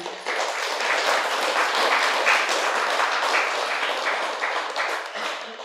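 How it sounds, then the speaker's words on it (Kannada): Loud applause from a seated audience at a Kannada spiritual talk, dense clapping that swells quickly and holds steady for several seconds before tapering off, with no talk over it. "ಅವರಿಗೆ ಒಂದು ಸಲ ಜೋರಾಗಿ ಚಪ್ಪಾಳೆ"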